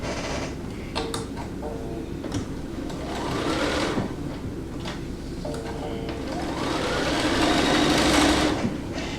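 Sewing machine piecing quilt fabric, stitching in rapid mechanical bursts that pause and restart, close and fairly loud, with a faint voice briefly under it.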